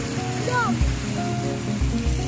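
Water rushes steadily at a picnic spot where fish are being fed, a continuous even wash heard alongside voices talking nearby.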